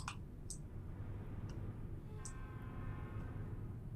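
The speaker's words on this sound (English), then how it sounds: "I'm assuming that's either a train or a pissed off trucker. Probably a train." A truck driving in American Truck Simulator with a distant train horn sounding in a few faint held tones over a steady road rumble, plus a few sharp clicks.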